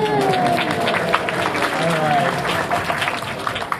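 A convention panel audience, gathered for a comics talk, claps and cheers in a dense, steady wash of applause that fills the whole moment, with scattered whoops over the top.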